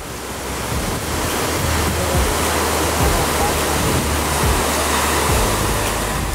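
Kalchhe waterfall in Syangja, Nepal roars in a dense, constant rush of falling water, loud and close throughout with some wind buffeting the microphone and faint low thumps.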